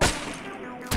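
Gunfire from the video game Shotgun Mother: a loud, short burst at the start and another at the very end, with dense clattering game noise filling the second between.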